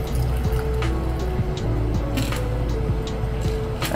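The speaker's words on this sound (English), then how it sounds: "Now, simply flip the glass and strain." A chili-rimmed martini strained from a cocktail shaker into a rocks glass, giving a steady close pour and trickle of liquid with faint clinks of ice.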